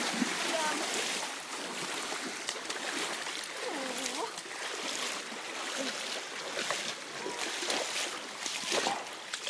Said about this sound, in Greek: Δεν μπορώ να πιστέψω ότι τόση ποσότητα νερού βγαίνει μέσα από τη γη